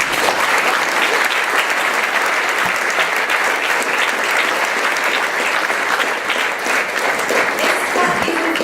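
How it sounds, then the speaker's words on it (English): Dense, steady applause from a large audience at a community celebration event, a loud continuous wash of clapping that holds evenly for the whole stretch with no voices standing out. "let's start clapping."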